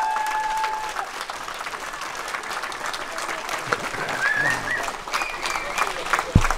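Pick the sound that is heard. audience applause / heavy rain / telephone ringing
audience applause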